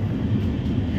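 Inside a train departing Mumbai, a steady low rumble and rolling drone fill the carriage, loud and continuous for a brief moment with no voices.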